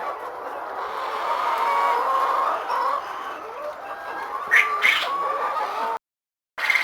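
Laying hens at a modern poultry egg farm, where a motorised feeder delivers feed, cluck and chatter continuously in a dense, close chorus. A few louder squawks stand out, followed by a brief silence.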